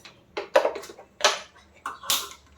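A cooking pot for a fish chilli curry is set down and handled on a stovetop, giving a few sharp, close metallic clanks and knocks spaced irregularly in an otherwise quiet kitchen.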